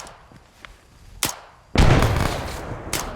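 A thrown frag grenade in a first-person shooter bounces off a branch and goes off with a loud, sharp burst. Earlier there are a few smaller thumps, and after the blast a long rumbling decay carries on, with no talking over it.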